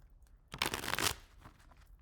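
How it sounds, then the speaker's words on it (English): One brief, close burst of tarot cards being shuffled, a quick papery riffle lasting about half a second, otherwise quiet. "Let's do a quick shuffle and a cut."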